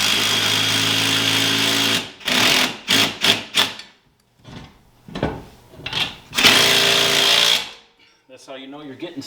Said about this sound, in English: Got my little socket thing in here for the legs.